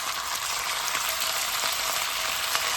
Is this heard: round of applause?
no